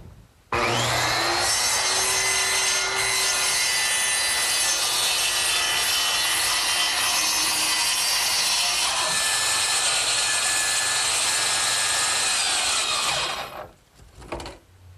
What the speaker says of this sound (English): to cut out some plywood at the lower edge of the back